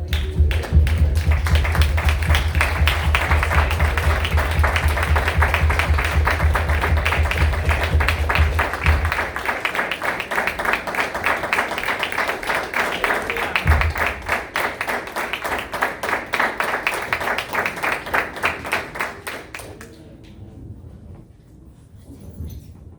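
A church congregation claps in a fast, even rhythm for about twenty seconds over a low hum that drops out midway, then the clapping fades into near quiet.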